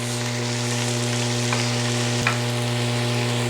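Vegetables sizzle and sauté in a soup pot for a Tuscan white bean soup, a steady close frying hiss with a couple of brief scrapes from stirring, no voices.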